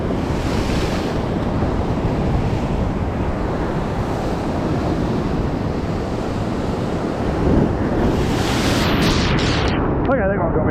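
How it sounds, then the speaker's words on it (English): Big surf crashes onto the rocks at an ocean rock-fishing spot. It makes a steady loud roar with wind buffeting the microphone, and a heavier surge swells near the end. "Watch these bloody waves."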